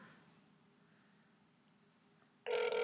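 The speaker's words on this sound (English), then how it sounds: "Oh, it's ringing." A telephone call to a Subway restaurant, with a faint hum and hiss on the line before a loud, steady electronic ringback tone cuts in near the end.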